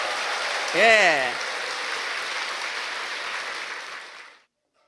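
Audience applauding at a sales seminar, a steady dense wash of clapping that holds for about four seconds before cutting off, with a brief spoken interjection near the start.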